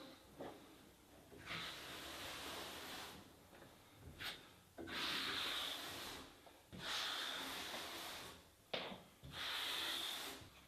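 A float wipes excess Kerakoll Fugalite Bio grout diagonally off stone tiles in five long, close scraping swishes separated by brief pauses.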